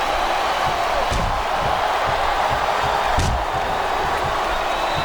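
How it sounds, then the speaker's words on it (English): Arena crowd chanting in the WWE SmackDown vs Raw 2008 wrestling video game, a steady dense roar with rhythmic pulses and occasional louder slams throughout. "Wow, listen to that chant."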